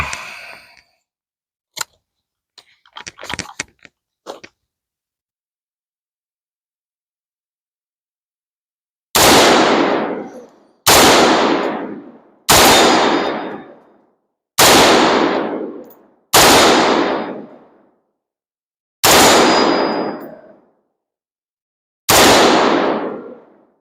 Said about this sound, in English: Yeah, let's shoot.